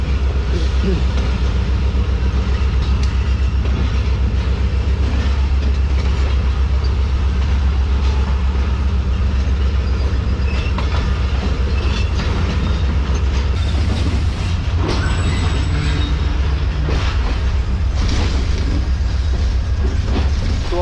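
A passing train, the 46 Down Pakistan Express between Rawalpindi and Karachi, rumbles past steadily for a long stretch near Rohri Junction, with a deep continuous roar and clatter, close and loud, while people talk over it.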